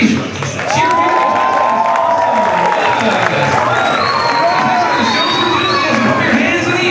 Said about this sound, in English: everybody, cheer for your contestants